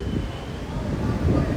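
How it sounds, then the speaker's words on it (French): Strong wind buffeting a microphone on a ferry deck at sea on a crossing toward England, producing a dense, continuous low rumble that stays loud and steady. "Ah mais il y a un vent, c'est un truc de dingue"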